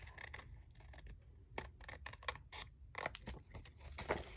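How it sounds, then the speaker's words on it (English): Scissors snip repeatedly with crisp crunching cuts and small creaks, irregular bursts close up and fairly quiet, no talking. "now I'm going to take long scissors and cut this off"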